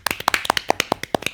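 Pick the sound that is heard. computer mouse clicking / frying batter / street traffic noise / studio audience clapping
studio audience clapping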